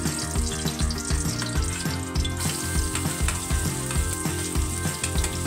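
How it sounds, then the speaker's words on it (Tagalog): Garlic, onion and ginger sauté in hot oil as the base for a coconut-milk yellowfin tuna stew, with a loud, dense, continuous sizzle and repeated stirring knocks. "Igisa natin yung bawang sibuyas at luya para sa ginatahan natin sa yellow pin"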